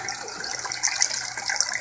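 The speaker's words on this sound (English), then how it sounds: "water comes up through there, comes out here into this T connector" Water from an aquaponics fish tank flows through a solid lift overflow and pipe into a T connector, making a steady close trickling and gushing with small splashes and no talk.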